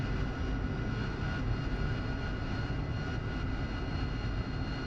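Steady, loud aircraft engine idling before takeoff in the DCS World flight simulator, a dense unbroken roar with a constant hum throughout and no talking.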